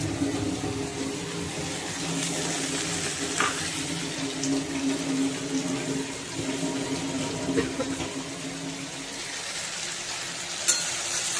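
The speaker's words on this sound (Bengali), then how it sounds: "মশলাটা ভাজা হয়ে গেছে" Spice paste for a rohu fish curry with elephant foot yam frying in a pan, a soft continuous sizzle with occasional stirring scrapes and clinks, fairly quiet and steady throughout.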